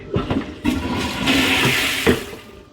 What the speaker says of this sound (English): so this is the flush. You pull it and flush.